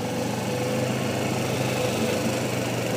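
A motorcycle engine running steadily with a buzzing, even drone, close and loud, with no distinct rise of a rev across the short stretch and no talk.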